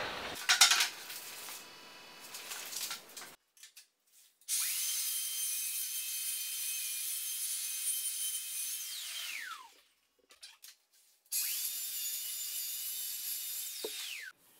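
A track saw cuts through a board in two separate passes, each a loud whining motor spin-up into a steady cutting roar that then winds down, with a short lighter scrape before the first.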